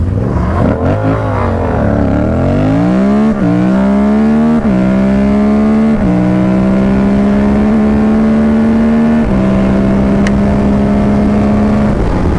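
A Ducati Monster 796 and a Yamaha MT-07 motorcycle accelerate hard and loud nearby, the engine note climbing through several gear shifts, each change dropping the pitch before it rises again into a sustained high drone.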